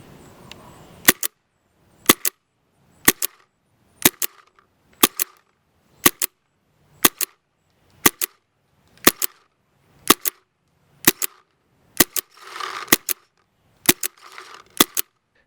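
Fifteen sharp test shots from an Autococker paintball marker fitted with a stock WGP bolt, each a crisp loud pop followed by a brief mechanical clack, fired at a steady rhythm about one per second, close and alone.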